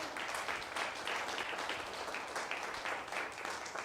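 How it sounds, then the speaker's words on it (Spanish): Sustained applause from a church congregation during a Sunday morning service, a dense, steady wash of clapping that fills the room evenly for several seconds with no voices over it. "denle un fuerte aplauso al Señor."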